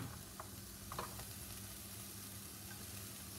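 Onion fries in oil for a Creole rougail bringelle: a faint, steady sizzle runs throughout, with a few soft taps around the start, heard alone without talk.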